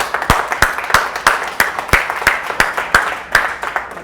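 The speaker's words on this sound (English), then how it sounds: "So please give yourselves a round of applause." An audience at an evening talk on inner confidence applauds in steady, evenly spaced claps, a dozen sharp, close strikes over a few seconds with no voices over them.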